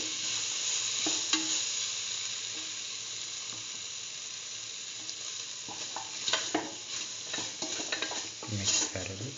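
A curried mustard potato and bell pepper stew is stirred in a pan, a spoon scraping and clinking repeatedly over a steady low sizzle, with busier stirring strokes toward the end.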